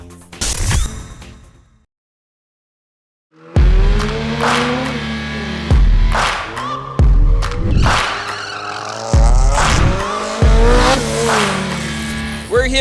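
Race cars at a National Slalom Series round in a shopping mall parking lot in Antipolo City squeal their tires through tight turns, a series of loud engine bursts and skids after a brief silent gap.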